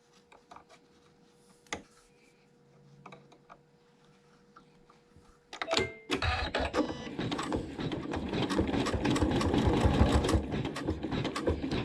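A sewing machine stitches a short fabric seam in Aurifil neutral thread while piecing a quilt block. After faint ticks and handling sounds, it starts about six seconds in and runs steadily and loudly to the end, with no talking.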